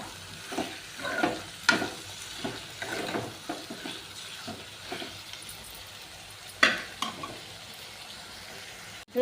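Chopped tomato pieces cooking with mutton and gongura leaves in a pan: a soft sizzle broken by repeated scraping stirs and an occasional utensil clink, close up and without talk.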